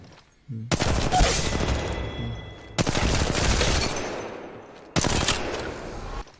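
Gunfire in Apex Legends Mobile, three loud sustained bursts of rapid shots separated by short pauses.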